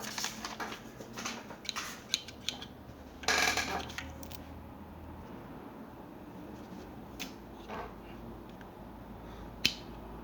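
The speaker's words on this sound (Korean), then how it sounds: "가위가 그렇게 뭐썩 잘 드는 것 같지는 않네요" Scissors on a Gentlemen's Hardware garden multi-tool struggle through a piece of string, giving small close clicks and snips with a short rasping chew partway through, and no talking.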